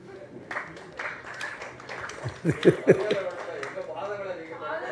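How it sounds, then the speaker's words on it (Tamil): Only a couple of audience members clap sparsely at a Tamil public talk. A short burst of scattered hand claps comes midway, with someone speaking over it and a few chuckles. "அது கூட 2 பேர் தான் கைத்தட்டு"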